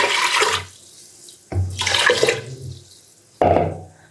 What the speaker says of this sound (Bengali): এই যে 2 পট চালের জন্য আমি 4 পট পানি দিয়ে দিলাম।